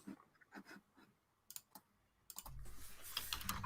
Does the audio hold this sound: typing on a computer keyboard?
yes